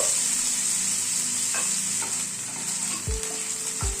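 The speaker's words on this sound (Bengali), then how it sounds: "প্রথমে একটু আলুগুলো নাড়াচাড়া করে নেব।" Potatoes frying in a pan are stirred, giving a bright constant sizzle with two low thudding knocks of the spatula toward the end; no voices.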